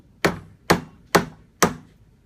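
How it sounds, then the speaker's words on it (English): A punch is tapped with a hammer four times at an even pace to work a rifle's trigger guard loose, each strike a sharp metallic tap that is close and clear. "This sometimes requires the use of a punch and a hammer."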